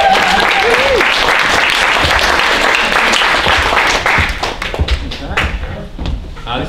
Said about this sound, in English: Everyone give a big round of applause for Rachel.